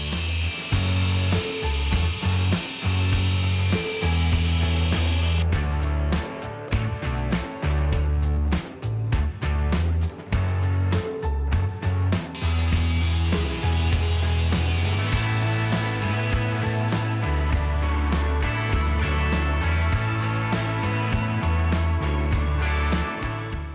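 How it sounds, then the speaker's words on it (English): An angle grinder cutting through a steel muffler clamp on an exhaust, a loud continuous harsh grinding with shifting pitch and rough scraping bursts as the disc bites the metal, close and unbroken. "we had to take the angle grinder and cut that one off as well"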